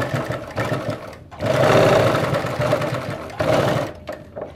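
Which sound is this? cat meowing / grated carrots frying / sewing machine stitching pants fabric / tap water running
sewing machine stitching pants fabric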